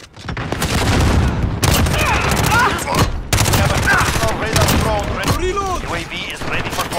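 Rapid, loud automatic gunfire in a video game shooter on the small Shipment map, dense sustained bursts with brief gaps, layered with synthetic game effects and whooshes.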